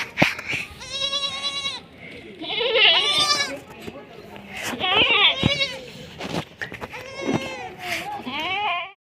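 A goat that has just given birth to her first kid bleats repeatedly in a Pakistani village, loud, close, wavering cries coming in several separate calls, with people talking in the background.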